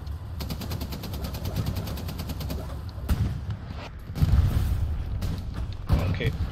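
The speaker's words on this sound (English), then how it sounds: "and hitting and hitting with the HE shells" A tank fires high-explosive shells in a tank battle video game, with heavy booms standing out over a constant din of rapid gunfire and mechanical rumble, while voices talk over the action.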